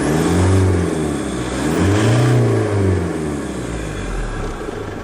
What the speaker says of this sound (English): I'll press the accelerator and you'll see the revs